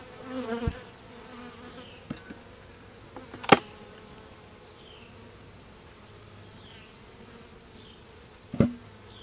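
Honey bees buzz around an opened nuc box, a soft continuous hum of many insects with a few sharp knocks and clicks from the hive equipment, swelling slightly toward the end.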